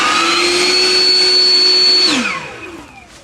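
A Flowzone Vortex battery-powered mist blower sprays water at full power, its loud steady fan whine holding for about two seconds before spinning down and fading out, with no voices.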